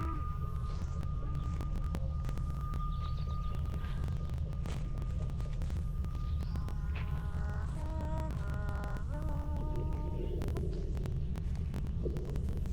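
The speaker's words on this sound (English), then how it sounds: "Someone walking outdoors, a distorted humming melody can be heard." In the video game Tangle Tower, a distorted humming melody drifts over a low, constant throbbing drone, the wavering tune rising and falling in short phrases against the buzzing background.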